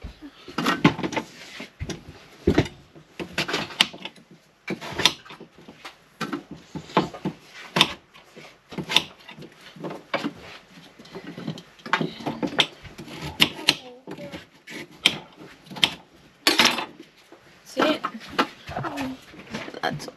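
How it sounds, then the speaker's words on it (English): A knife dices pumpkin, sweet potato and carrot without a chopping board at a beach campsite. Irregular close, sharp cuts and taps sound fairly quietly, spaced unevenly, with some faint background noise between them. "That's all my veggies diced up. Pumpkin, sweet potato and carrot."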